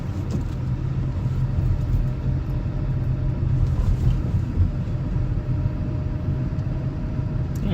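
A manual-transmission car pulls away from a stop downhill on light throttle, heard from inside the cabin as a low, steady engine and road rumble with no talking.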